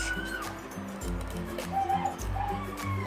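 A household dog yaps and whimpers in short, repeated bursts close by, with several sharp barks breaking over an indoor background.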